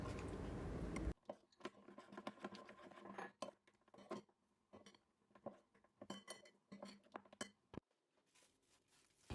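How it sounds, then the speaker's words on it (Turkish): Unsalted peanuts being stirred into melted chocolate in a bowl for a no-bake Snickers cake, giving irregular clinks and scrapes of a utensil against the bowl, close and fairly quiet, with no talk. "erittiğim çikolatanın içine bir kase dolusu tuzsuz fıstık ekliyorum ve karıştırıyorum"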